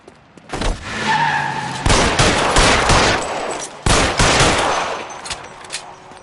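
Gunfire during a police shootout in L.A. Noire, played on PS4 Pro: loud bursts of shots in clusters with short gaps, close and sharp, alongside other game noise.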